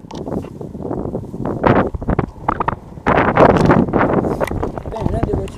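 Wind buffets the microphone while riding a bicycle wheelie on flat ground, a loud gusty rumble that sits under someone talking throughout.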